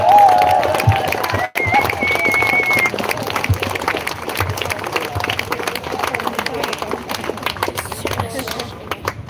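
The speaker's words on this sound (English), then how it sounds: "Give yourselves a round of applause." An outdoor rally crowd claps and cheers, with whistles and shouts rising over a broad wash of applause and crowd noise while voices carry through it.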